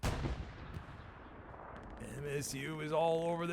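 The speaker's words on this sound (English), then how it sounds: "the artillery shell wipes out a couple" Artillery shell explosions in a competitive video game match, heard as a heavy booming rumble at the start that trails off, then tonal game effects and a commentator talking over the action.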